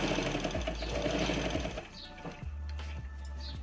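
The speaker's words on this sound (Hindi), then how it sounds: "ये जहां तक हमने कट लगाया हुआ है यहां तक हम इसको स्टिच कर लेंगे।" A sewing machine stitches a coat collar, running in a fast, even mechanical rattle, then pausing briefly and restarting with a few short bursts, close and moderately loud with no talk.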